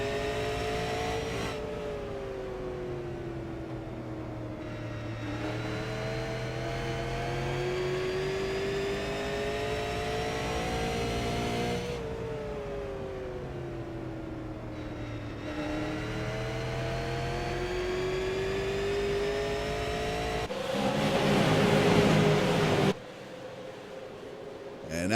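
Modified race cars of the CAN-AM Tour Modified Series accelerate at Stafford Speedway. From on board, a loud engine climbs through rising, wailing revs across repeated gear pulls, with a short rough roar near the end.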